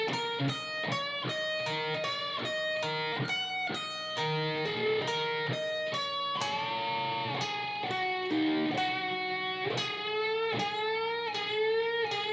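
Electric guitar slowly plays parts 4 through 6 of a solo: a long string of sharply picked notes, bends and held vibrato phrases, close, steady in loudness and without talk.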